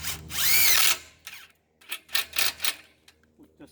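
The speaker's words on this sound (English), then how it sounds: "We can use little self-tapping screws as such." A power drill drives small self-tapping screws into a metal gate latch for a pedestrian gate, with one loud close whirring burst and then several short, sharp bursts.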